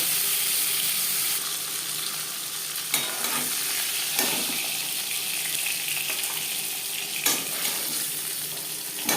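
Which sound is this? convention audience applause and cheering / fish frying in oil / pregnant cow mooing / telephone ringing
fish frying in oil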